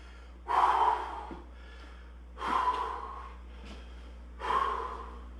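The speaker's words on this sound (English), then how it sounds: "Nice deep breaths." Three deep, loud breaths follow a workout, each a heavy gasping inhale or exhale with a soft snort, separated by short quiet pauses.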